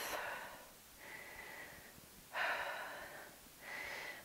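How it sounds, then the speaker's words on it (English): Slow, deliberate breaths during a Pilates leg workout, close and audible, with three or four long hissing exhales and inhales evenly spaced about a second apart, quiet and without talk. "Slowing down your breath."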